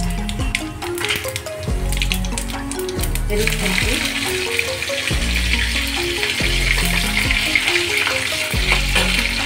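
Mustard seeds and cumin sputter in hot oil in a pan, a busy crackle and hiss running throughout with repeated rhythmic low thumps and scraping, as if something is being tapped or stirred.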